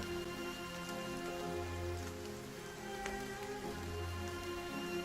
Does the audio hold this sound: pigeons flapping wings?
no